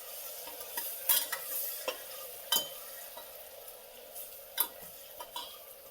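Tomato pieces are stirred into a stuffed brinjal and potato curry, producing quiet, scattered scrapes and light taps of a spoon against the pot over a faint background sizzle.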